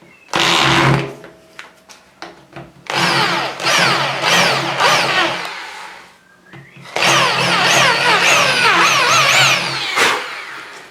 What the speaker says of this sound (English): I'll just use a countersink tool for that. So let's just take the head out of that so it's useless.